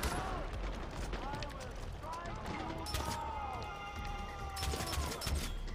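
Scattered gunfire echoes in Far Cry 4's Valley of the Yetis, with sniper rifle shots among faint distant pops and whooshing effects, all fairly quiet beneath a player talking.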